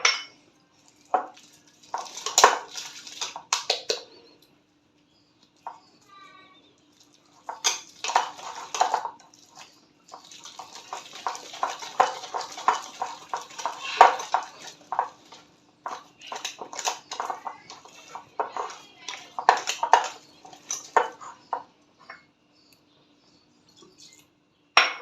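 Water is added and mixed into a gram flour batter in a bowl, heard as intermittent close clinks and scraping of a utensil against the bowl in short bursts with quiet pauses between them.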